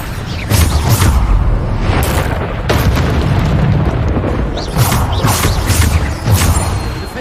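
Bombarda spell blasts in Hogwarts Legacy go off as repeated loud, booming explosions with rumbling crashes, several bursts in quick succession over a few seconds.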